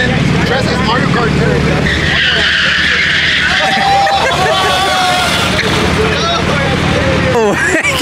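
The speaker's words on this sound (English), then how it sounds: "Oh, Kicks is drifting that shit" A BMW M3 drifting with a long, loud tire skid and roaring engine up close, while several people chatter and exclaim over it.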